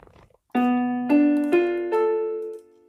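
A piano plays a chord one note at a time, four notes building up and ringing together before fading out.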